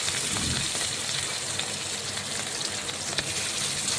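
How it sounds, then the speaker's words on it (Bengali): Rohu fish pieces fry in hot oil in a wok, giving off a constant close sizzle and crackle with scattered small pops and spits, and nobody speaks. "এখন বেশ কিছুক্ষণ সময় নিয়ে আমি মাছের এক পাশ ভালোভাবে ভেজে নেব।"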